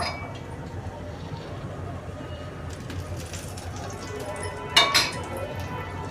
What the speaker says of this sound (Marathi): तूप टाकून घेऊया पलटून देऊ